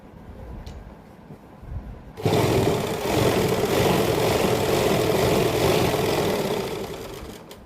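Sewing machine stitching a salwar hem starts abruptly after a quiet moment and then runs as a loud, continuous whirring motor hum close by, easing slightly near the end.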